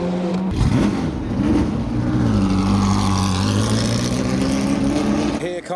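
A Ford GT40 overtaking a Chevron race car down the main straight at a track day, with engine notes rising and shifting pitch as the cars pass close by amid steady in-car noise.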